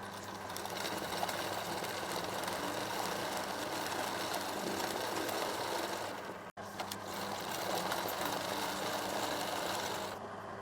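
An embroidery machine stitches continuously with a fast, even mechanical whir and rattle, holding steady for several seconds, cutting out for a moment, then starting up again, with no voices.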